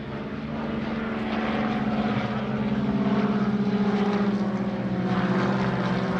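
A Beechcraft T-34 Mentor propeller trainer flying aerobatics at an airshow, its engine droning steadily and fairly loud, swelling slightly mid-pass, with no voices.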